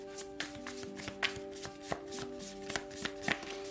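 Charm cards are shuffled by hand for a reading, making soft, quiet riffles and light taps in an uneven rhythm over a low background hum.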